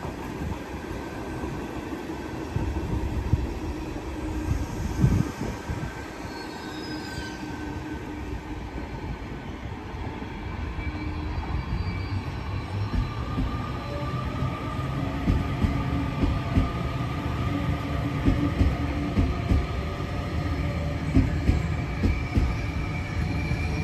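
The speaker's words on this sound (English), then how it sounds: "next train to arrive on platform 6 terminates here." A train pulls into a platform at Homebush station in Sydney, a long rumbling approach with rail clatter and faint wheel squeal that builds gradually and stays steady and fairly close throughout, with no talking.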